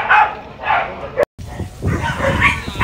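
Dogs on trucks stopped at a station bark and yip in short repeated bursts, fairly close, while people talk over them.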